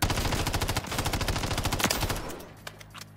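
MTZ 5.56 rifle firing on a range in a video game, a fast sustained burst of close, loud shots that fades out, followed by a few sparse single cracks.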